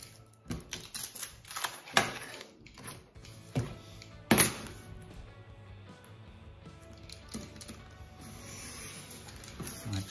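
A craft knife cuts card along a steel rule on a cutting mat, giving scratchy dragging strokes and sharp clicks in irregular bursts, one louder snap near the middle, then a quieter scrape.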